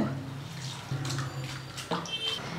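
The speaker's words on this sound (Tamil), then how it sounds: "இப்போ இதில் தண்ணி சேர்த்து நம்ம கழுவிடலாங்க ஃபஸ்ட்டு." Thin rice flakes (aval) being washed in water in a kitchen make soft sloshing and splashing, with a couple of sharper swishes as the water is stirred, close and moderately quiet.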